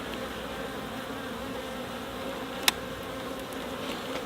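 Honey bees droning steadily around an opened hive during an inspection for small hive beetle infestation, a close continuous buzz with one sharp click partway through.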